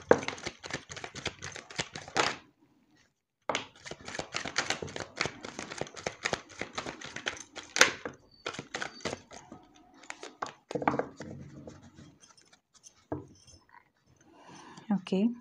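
Tarot cards shuffled by hand close up: dense, crisp papery rustling and riffling in bursts, broken by brief silent pauses and followed by softer scattered taps and shuffles.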